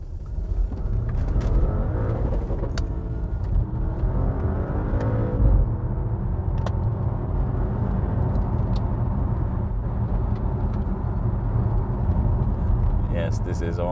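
A 2013–2018 Audi RS6 V8 in sport mode drones steadily from inside the cabin, a continuous low engine and exhaust rumble with road noise, while someone talks over it throughout.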